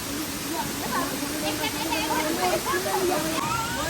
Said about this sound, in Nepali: अहिले चाहिँ हामी सेती खोलामा छौँ